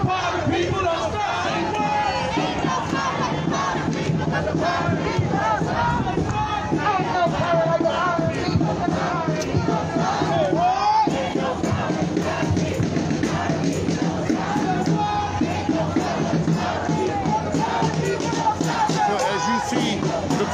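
A very large crowd of protesters marches through downtown Minneapolis streets on the day of the Derek Chauvin verdict, chanting and yelling together in a loud, continuous roar of many voices.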